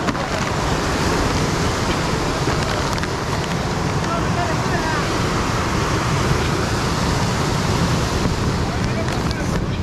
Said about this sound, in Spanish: que el agua está bien movida.